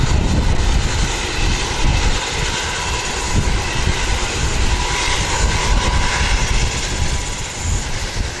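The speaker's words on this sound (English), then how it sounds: "We've got a Jetstar about to come in as well. It's a flight from Auckland." A Jetstar passenger jet from Auckland arrives at Wellington Airport, its engines a loud, steady roar that fills the whole stretch without fading, alone with no talk.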